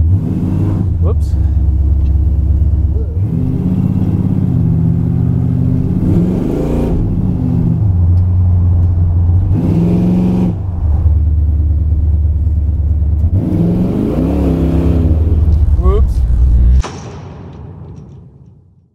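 A loud 430-horsepower car engine in need of tuning idles roughly and revs up several times in surges, then cuts off abruptly, leaving a fading hum.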